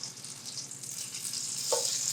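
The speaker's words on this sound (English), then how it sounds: "Now it's time to fry up the black pudding" Black pudding frying in a pan gives a steady close sizzle that grows slightly louder toward the end, with one brief scrape near the close and no voices.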